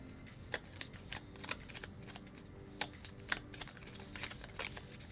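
A deck of tarot cards shuffled by hand, close but quiet, giving a continuous soft riffling and flapping with a few sharper snaps of cards sliding together, with no talking.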